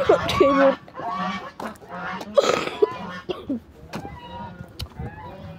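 Several loud, harsh goose honks burst out in quick irregular succession, close by, with some overlapping calls and short gaps.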